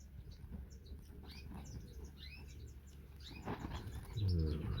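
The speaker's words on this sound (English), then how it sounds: "So this one is star finch." Star finches in an aviary give repeated short, high chirps and tweets scattered across the clip, soft and fairly near, over a low background rumble with a brief muffled thump near the end.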